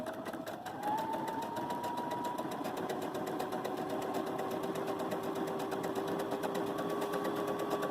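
A Baby Lock Jubilant sewing machine runs steadily along a fabric edge with a fast, even mechanical whir and needle chatter that never breaks, close and clear.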